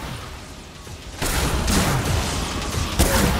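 A fireworks machine fires in the Dead Rising 3 video game: a loud burst of rapid popping blasts and crackling explosions that starts abruptly and keeps going, with another sharp bang toward the end.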